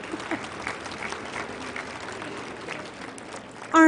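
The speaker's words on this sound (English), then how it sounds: "A round of applause for Fanny." At a TSA honorary awards ceremony, the audience gives a security operations employee from Portland International Airport a round of applause: steady, moderately loud clapping in a hall, with a sharper noise at the very end.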